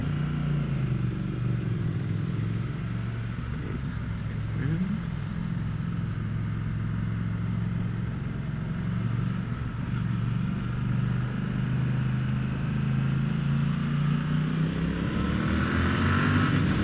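A Triumph Speed Twin motorcycle being ridden, a steady engine drone with wind noise from the rider's position, rising slightly in pitch toward the end as the bike picks up speed.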